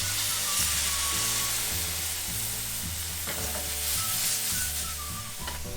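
Red wine added generously to a frying pan of well-sautéed wild boar ragù, with loud continuous sizzling and stirring close up and a steady bubbling hiss throughout. No one speaks.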